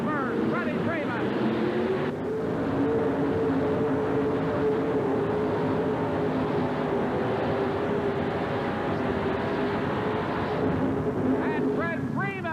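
A 2wd pulling truck running on alcohol roars at full throttle at a 1988 Birmingham tractor and truck pull, loud and steady with the engine note rising and falling, while an announcer talks over it.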